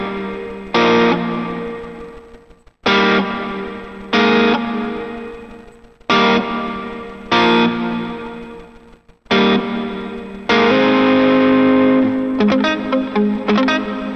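Electric lead guitar with effects plays a lead part slowly, in five separate phrases with short silent gaps, each note ringing out loudly with distorted, chorused sustain.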